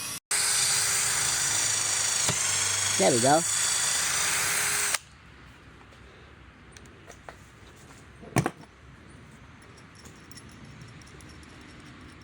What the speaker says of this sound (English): I'm going to drill first.